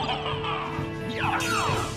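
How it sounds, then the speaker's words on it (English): Holy water hurled at Dracula in Castlevania: Symphony of the Night, giving a sharp crash-and-splash game effect layered over swirling music, with a bright burst of sound near the end. "I think throwing holy water at his face will hurt him in the long run."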